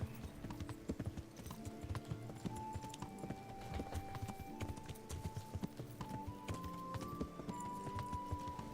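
Horse hooves clip-clop steadily under a rider in Kingdom Come: Deliverance, a continuous close rhythmic patter with light game music tones running over it and no talk.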